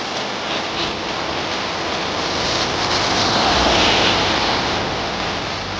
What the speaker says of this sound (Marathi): किती छान धबधबे पडते बघा हे.